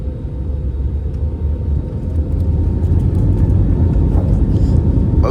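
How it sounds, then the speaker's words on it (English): Steady low engine rumble inside a British Airways airliner on the runway before takeoff at Berlin, with the cabin noise building slightly and holding constant throughout. "I believe we are on the runway now."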